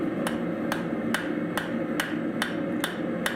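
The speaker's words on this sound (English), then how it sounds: "hitting it flat on the anvil with a flat hammer" Flat hammer striking hot mild steel on an anvil during forging, eight evenly spaced ringing blows about two per second, close and loud over a steady background hum.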